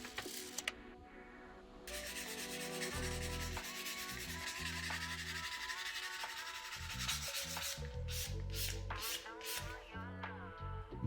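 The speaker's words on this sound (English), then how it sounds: "the first round is just some dry polishing, so you just take your sandpaper" Sandpaper is rubbed back and forth along a leather edge in continuous dry polishing, a close, steady scratchy rasp that lasts throughout with a rhythmic stroke pattern and no talk.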